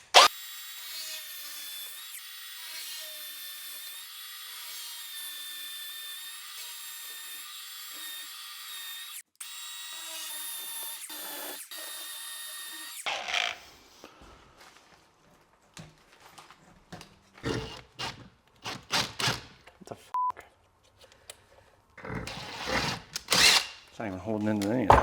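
A power drill whines steadily for several seconds drilling 5/16 inch holes, stops, then short irregular bursts of drilling and clattering follow.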